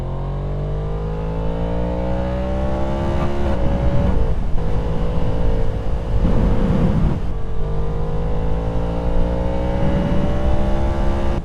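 A 2023 Yamaha MT-10 motorcycle accelerating hard along a country road, its loud engine note climbing steadily in pitch with a couple of brief shifts, close and continuous for the whole stretch with no talking.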